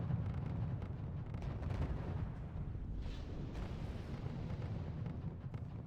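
Artillery barrages pounding buildings in the strategy game RUSE, heard as a continuous low rumble of distant blasts and crackling impacts that blur together at steady loudness, with no clear break.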